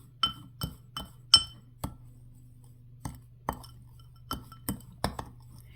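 Spoon stirring a homemade spice blend in a small glass container, producing a dozen or so sharp, close glassy clinks at irregular intervals over a low steady hum.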